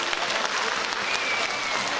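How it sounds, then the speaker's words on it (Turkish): Audience applause at a children's musical stage show, greeting a dance by Yupi and Jet. Steady, dense clapping from a crowd fills the whole short stretch at an even level. "Yupi ve Jet güzel dans etti diyenler alkışlasın."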